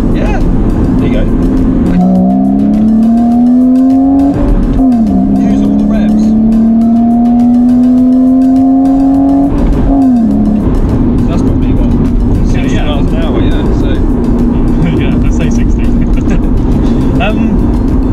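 A BMW Z4 accelerates hard in second gear, its engine note rising loud and close in long sweeps, easing off between pulls before climbing again, with people talking over it inside the car.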